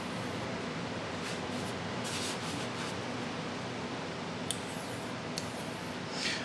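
Straight razor honed on a Coticule whetstone, a continuous close swishing scrape of steel on stone with faint rhythmic strokes and a couple of light clicks.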